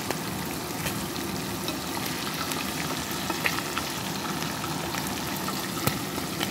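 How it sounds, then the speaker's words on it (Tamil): Fish fry in a fairly generous amount of hot oil, giving a steady, close sizzle with occasional small pops and crackles throughout. "நான் கொஞ்சம் அதிகமான எண்ணெயில் தான் இந்த மீன்களை பொரித்து கொண்டிருக்கிறேன்."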